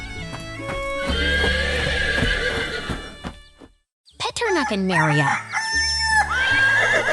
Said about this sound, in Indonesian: Lihat itu, kuda-kuda kecil sedang bermain di sekitar meja kayu.